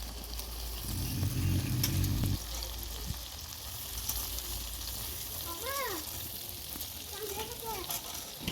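Chicken fries in a wok with a steady loud sizzle throughout, briefly joined by a low rumble early on and a few scraping stir sounds.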